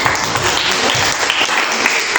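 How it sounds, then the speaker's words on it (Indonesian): Brief, lively applause breaks out in a classroom for a student group, close and loud with irregular claps throughout. "Silakan tepuk tangan."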